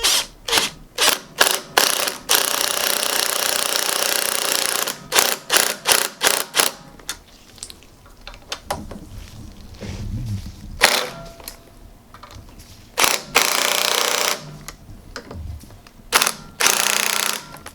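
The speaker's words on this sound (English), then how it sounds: "this little weak Makita is more than enough" A small Makita impact tool works on the stuck front forks of a Shovelhead chopper, giving loud bursts of rapid ratcheting hammering, some short and clipped, others sustained for a couple of seconds, with quieter workshop clatter in the gaps.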